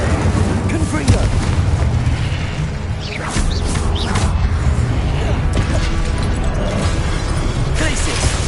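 Confringo spell blasts in Hogwarts Legacy, loud booming bursts layered with game effects and a busy battle mix, with a player shouting spell names over the action.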